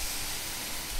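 Potatoes and onion sizzle in a frying pan over a gas stove, a loud, steady, close crackling hiss that runs unbroken.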